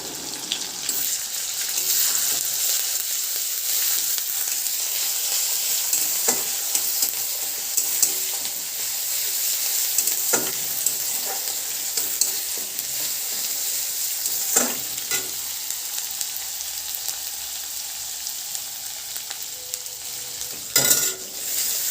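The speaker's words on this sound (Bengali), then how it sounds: "এবার আমি যে পেঁয়াজটা বেটে রেখেছি সেটা দেব।" Ground onion paste sizzles and spatters steadily in a hot pan over fried chopped onion, with occasional stirring scrapes and a sharper clatter near the end; no talking.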